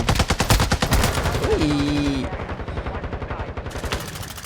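Rapid bursts of automatic gunfire in the video game Warzone 2.0, SCAR-H rifle, crackle steadily and continuously, loud and close, with a brief whistling tone sweeping through the shots.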